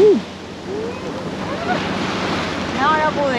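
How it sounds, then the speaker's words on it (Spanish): Pacific Ocean surf breaking on the shore at Viña del Mar with a breeze, a loud, steady wash of waves and wind buffeting the microphone, with brief voices in the background. "cuando escucha la brisa y el mar golpeando en la orilla"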